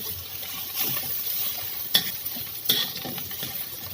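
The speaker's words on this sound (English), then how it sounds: "Make sure now the rice is sticking to the wok." Fried rice is stir-fried in a wok with a continuous close sizzle and scraping stir, broken by a few sharp clanks of the utensil against the pan.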